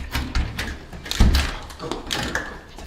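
A door at a Halloween Horror Nights attraction based on The Last of Us, heard as several thumps and clunks with a louder slam midway, close, amid ambient noise.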